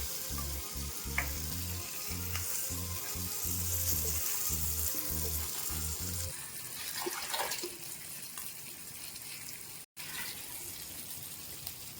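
Fish sizzling steadily in hot oil in a pan, turned once one side is cooked, a close, constant frying hiss with a rhythmic low thumping in the background early on, no speech.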